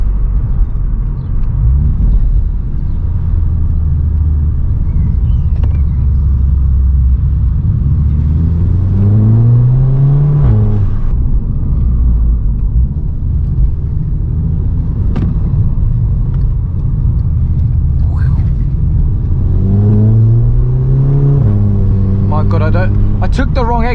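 A Volkswagen Scirocco with a DSG gearbox climbs through the gears, its engine note rising in repeated sweeps with brief breaks at each shift, loud and close, carrying a deep rumble under a low hum throughout.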